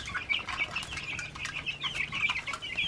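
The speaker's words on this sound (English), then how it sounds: "Here they are eating like crazy chickens do." A flock of chickens, mostly black Australorps, clucks and chatters steadily nearby while eating, with scattered pecking and some wing flapping, no talking.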